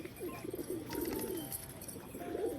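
Several pigeons perched together coo softly in a low, warbling rhythm that repeats throughout, steady and moderately close, with no voices.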